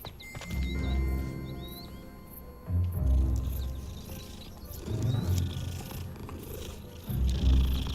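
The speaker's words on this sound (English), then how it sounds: "Oh, it's another cat." A cat purring in the video game Hogwarts Legacy, a low rumbling purr that rises and falls in repeated swells, loud and close, set within a layered ambient game soundscape with no talking.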